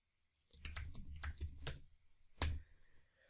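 A few quick bursts of keystrokes on a computer keyboard entering a command, quiet and close, with brief pauses between the clicks.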